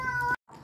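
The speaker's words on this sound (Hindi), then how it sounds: "बिल्ली वाली बाहर आ गई, बैठी कैसे हुई है" A cat gives a short, clear meow, close by, followed by a brief pause and soft background noise.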